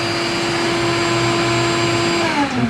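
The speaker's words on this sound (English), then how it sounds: "Unplug our vacuum cleaner." A vacuum cleaner runs steadily and loud in a workshop where Coosa board is being cut and beveled, its motor whine holding constant before winding down at the end.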